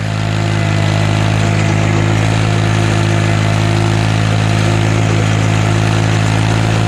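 A subcompact tractor engine in four-wheel drive runs steadily while plowing wet, heavy snow with a homemade plow, a loud, close, constant droning hum with no talk.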